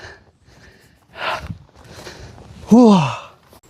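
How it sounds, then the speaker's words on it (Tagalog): A hiker breathes heavily while climbing the Gallano rice terraces: a few breathy exhales and puffs, then one loud, voiced, gasping breath near the end. "Hingal ako talaga."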